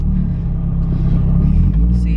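A Mazdaspeed 3 rumbles under acceleration as a deep, steady, loud engine drone heard from inside the car, with no clear rise in pitch.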